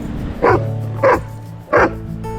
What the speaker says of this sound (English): He's such a good dog.